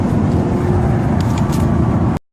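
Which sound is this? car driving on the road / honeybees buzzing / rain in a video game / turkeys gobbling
car driving on the road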